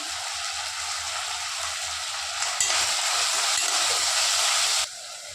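Onions and tomatoes frying in a pan for biryani with salt, coriander and mint, giving a steady loud sizzle with soft stirring scrapes throughout and no talk.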